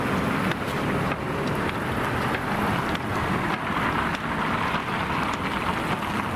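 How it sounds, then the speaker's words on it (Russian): Heavy morning car traffic on a bridge over the Ob in Barnaul makes a dense, continuous roar, mixed with wind buffeting the microphone. "Машин много очень идет."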